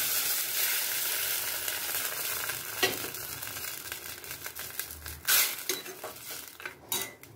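Tamarind pulp goes into fenugreek leaves and tomato frying in a pan, producing a steady close sizzle with scattered spoon clinks and scrapes against the metal, plus a couple of louder stirring knocks toward the end.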